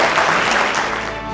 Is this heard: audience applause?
yes